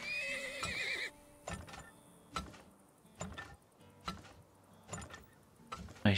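A horse whinnies loudly in the strategy game Turmoil, followed by a series of sharp, evenly spaced hoof clops or thuds, with no talking.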